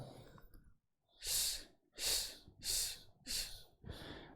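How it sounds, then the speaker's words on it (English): A person breathing slowly and audibly in and out, five or so strong airy breaths in a steady rhythm, close and alone, after a faint start. "inhale, exhale. Inhale."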